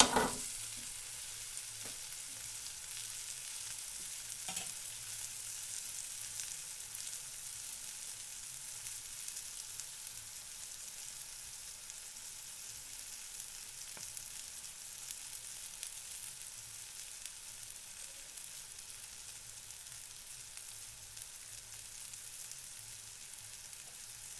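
Bread cooking in a covered pan, a faint, even hiss of frying under the lid that holds steady and slowly softens, with a small knock near the start and no voices.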